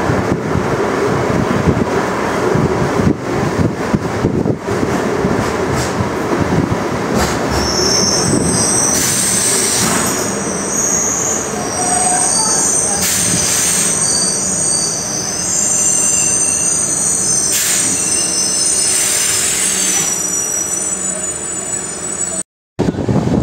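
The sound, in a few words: passenger train running to Kyathsandra railway station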